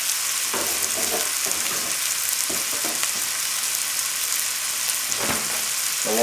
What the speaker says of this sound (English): And while that's sauteing